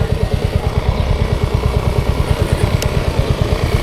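A motorcycle idling close by on a mountain road, a loud, even, rapid engine putter that holds steady for the whole stretch, with no talking.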